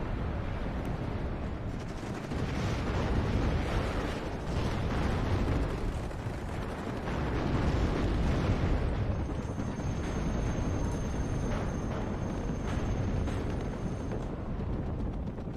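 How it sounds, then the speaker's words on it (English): M60 tanks firing in the war game WARNO: a dense, continuous rumble of cannon blasts and explosions rolling over one another, heavy and booming throughout, with a thin high whine appearing partway through. "Man, the M60s sound cool."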